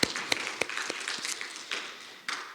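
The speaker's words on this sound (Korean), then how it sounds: "우리 하나님께 감사의 박수 함께 드리겠습니다." Congregation in a Korean church service offers scattered, fairly quiet claps at an uneven rhythm, with no talking over them.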